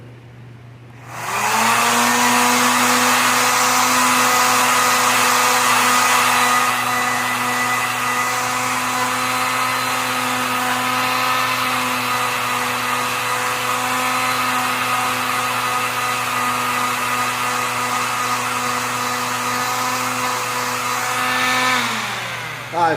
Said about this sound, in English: We're going to start with a little 120 on this vibration sander just to knock down the big pits and valleys